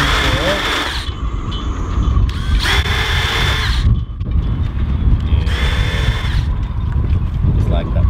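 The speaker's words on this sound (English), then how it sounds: "a little bit of countersink so that the gel coat doesn't" A drill countersinks screw holes in a boat's gel coat in three separate bursts of whirring, each lasting about a second and a half, close up with steady background noise and a voice talking between bursts.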